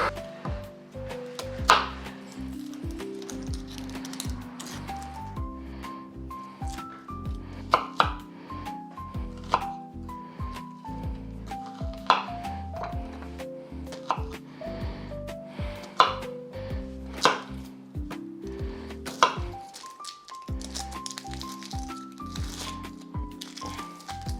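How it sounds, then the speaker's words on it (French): A hand-operated chopper works through pearl onions with rapid rhythmic chopping strokes, repeating in steady bursts with brief pauses, close and crisp throughout. "je vais utiliser le mixeur manuel"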